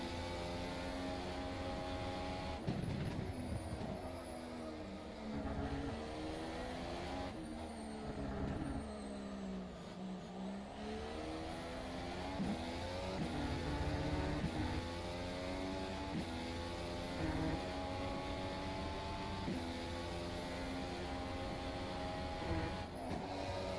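Race car engine in rFactor 2 at Silverstone, a continuous loud harmonic drone with pitch rising and falling through gear changes and throttle shifts, dipping low around the middle before climbing again.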